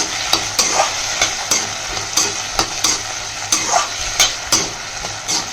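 Ripe chopped tomatoes sauté in a pan for a fenugreek curry, with a constant sizzle and repeated rhythmic scrapes of a spoon stirring them, close and clear.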